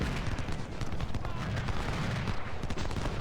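Dense, continuous battlefield fire from Civil War-era artillery and muskets in the strategy game Ultimate General: Civil War, a steady crackling fusillade with scattered sharper reports throughout, loud and without talk.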